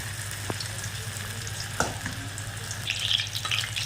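Soybean chunks dropped into hot oil for soyabean chilli, frying with a steady close sizzle and a few brief splutters and pops over a low hum.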